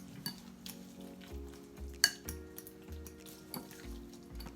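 Spoon stirring stuffed-pepper filling with sauce in a pan, soft scraping and wet mixing with a few sharp metal clinks, close and quiet, no talking.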